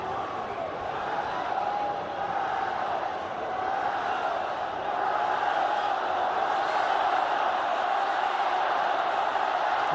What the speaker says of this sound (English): Ronaldo, Ronaldo, Ronaldo, the cry from the crowd here